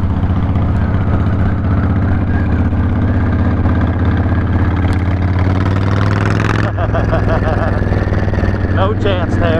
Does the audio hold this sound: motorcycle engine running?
yes